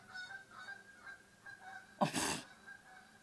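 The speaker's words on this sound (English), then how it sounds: "You hear those geese out there?" A goose honks a few times in the distance over quiet background, with one louder, breathy burst midway.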